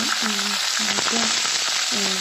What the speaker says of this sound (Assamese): আৰু এতিয়া গোটেইখিনি তেলত ভাজিম।